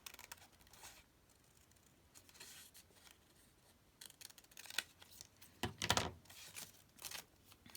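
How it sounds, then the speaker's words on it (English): Scissors snip through paper for a handmade keepsake frame, a series of faint, irregular cuts and rustles close by, with louder clustered snips toward the end and no talking. "I do prefer to use scissors"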